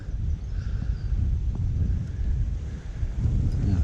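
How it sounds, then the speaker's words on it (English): Wind gusting along the left bank of the River Taw at a fishing pool, a steady low roar and buffeting rumble across the microphone, fairly loud and continuous with no talking. "Yeah, windy as well."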